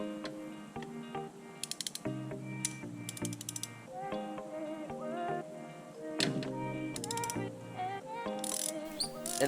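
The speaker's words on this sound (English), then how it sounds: "That pop was me breaking spark plug number 6 loose." A ratchet wrench working on a Ford Mustang spark plug during a misfire repair, rapid clicking pawl bursts repeating in short runs amid metallic tool clatter, close and fairly loud.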